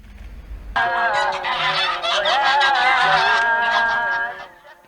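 A flock of geese honks loudly and continuously, many overlapping calls close by, after a brief quiet start, then fading at the end.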